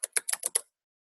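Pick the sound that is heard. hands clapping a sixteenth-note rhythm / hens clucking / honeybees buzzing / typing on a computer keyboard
typing on a computer keyboard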